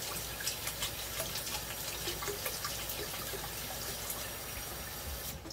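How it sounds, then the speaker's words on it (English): Water from a tap pours steadily into a sink while oil is rinsed off hands, a loud continuous close-up rush with no speech over it. "Wash the oil off of my hands."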